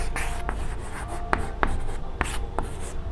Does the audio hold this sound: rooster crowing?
no